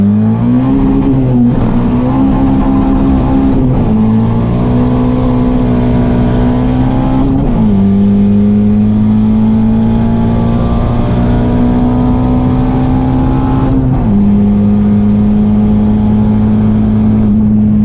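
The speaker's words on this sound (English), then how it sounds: "We just topped out the Civic! A whole 70 miles per hour!" A turbocharged Honda Civic at full throttle, its loud engine note climbing steeply through several gears toward about 70 mph, with brief dips at each upshift and no talking.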